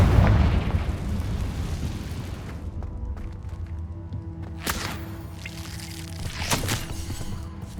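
A Confringo blasting spell from the video game Hogwarts Legacy bursts with a loud, broad explosive roar at the start that decays into a rumbling tail, followed by two sharper, fainter bursts.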